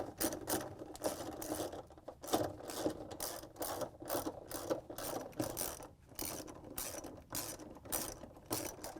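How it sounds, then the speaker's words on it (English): A hand ratchet with a 3/8 inch socket clicks rapidly in close, repeated bursts while backing out the bolts holding the motor stator to the bottom of a Whirlpool washer. "We're going to use a ratchet with a 3/8" socket."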